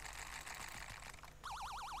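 Alarm in the TrollFace Quest 2 video game, a warbling siren-like wail that starts abruptly partway through over busy, noisy game sound, steady and prominent.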